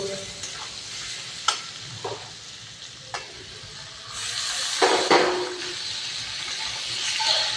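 Tomatoes added to fried ginger-garlic paste in a pan for chicken curry: a loud hissing sizzle that swells as they hit the oil, punctuated by spatula scrapes and clacks, close up with no speech.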